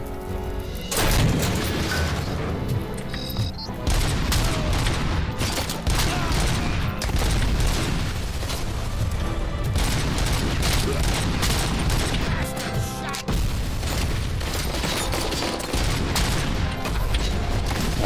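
Dense gunfire and heavy explosions from RoboCop: Rogue City fill the whole stretch, rapid bursts and booming blasts layered loud and continuous with brief lulls and faint talk underneath.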